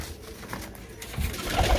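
Pigeons coo softly at close range over a faint background of rustling and handling noise, with low throaty calls swelling toward the end.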